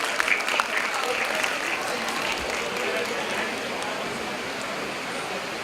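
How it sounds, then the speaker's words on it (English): Audience at an alumni meet claps in a dense, sustained round of applause, a few louder claps standing out at the start before it settles into an even wash. "Please give a big round of applause."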